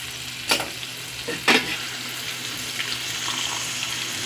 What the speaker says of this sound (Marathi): बांगडाही तेलामध्ये छान सॉटे झालेला आहे. थोडं आपण शिजण्यासाठी त्याच्यामध्ये थोडं पाणी ॲड करूया.